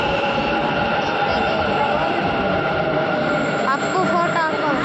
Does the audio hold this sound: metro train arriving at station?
yes